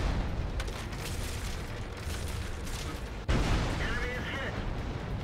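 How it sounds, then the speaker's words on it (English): A 76mm tank gun in World of Tanks fires, heard as a sudden sharp boom partway through over continuous engine and battle noise, with someone talking during the clip. "The rate of fire on this 76mm gun is ridiculously good"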